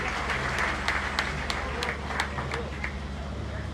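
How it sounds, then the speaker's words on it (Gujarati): A crowd at an AAP political rally in Visavadar, Gujarat breaks into steady applause to welcome the party's Gujarat in-charge, with dense clapping and a few sharp hand claps standing out, continuous and moderately loud throughout. "એમને જોરદાર તાળીઓથી આપણે વધાવી લઈશું"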